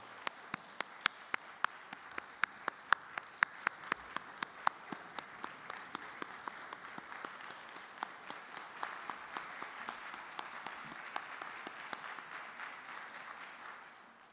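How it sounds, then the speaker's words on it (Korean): A standing audience at a lecture event applauds warmly, dense sustained clapping with sharp individual claps standing out early, gradually thinning and fading toward the end. "우리가 큰 박수로 일어나셔서 같이 모셨으면 감사하겠습니다"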